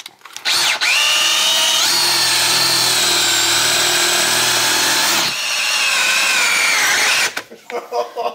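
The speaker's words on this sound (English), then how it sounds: "put the drill on high speed and just let it break the drill bit" A power drill whines loudly at high speed in two long bursts with a short pause between, followed by a few brief clattering noises.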